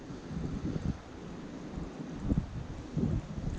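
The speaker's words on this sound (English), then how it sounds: "that wind is still cold" Wind blows outdoors beside a private pond in cold mid-February weather. It makes a steady low rumble of buffeting against the microphone, with a few stronger gusts.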